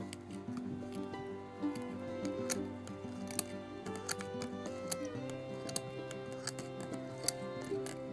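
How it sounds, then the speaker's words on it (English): Rapid, irregular snipping of scissors chopping moss, steady and close, with small sharp clicks scattered over a low background hum. "I'm gonna take my scissors and I'm just gonna chop it up."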